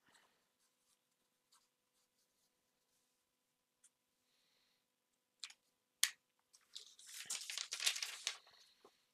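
Pen scratching on paper as numbers are written down, soft and close in a quiet room, with a few isolated ticks first and then a steady burst of scribbling near the end.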